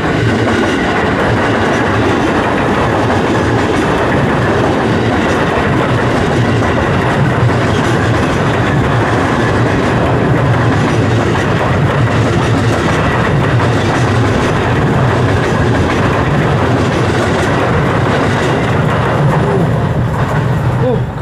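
A train thunders past close by on an elevated Jakarta railway, a loud continuous rumble with rhythmic wheel clatter on the tracks that persists throughout.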